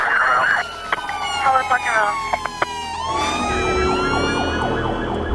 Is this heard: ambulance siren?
yes